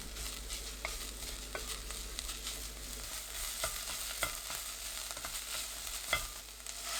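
Chopped greens with doenjang, minced garlic and sesame oil stir-frying over medium heat, a soft steady sizzle broken by light scraping taps of a spatula, with no voices.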